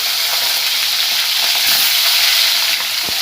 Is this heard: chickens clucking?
no